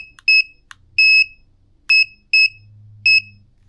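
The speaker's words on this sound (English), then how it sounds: "it confirmed that we touched continuity by the beep" Five short, loud electronic beeps from a VDIAGTOOL V200 Pro power probe circuit tester signalling continuity, irregularly spaced with clear gaps between them and no talk.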